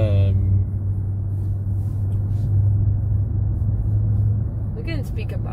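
A Maserati driving, its engine giving a steady low rumble and drone from inside the car that holds for several seconds before a voice speaks briefly over it near the end.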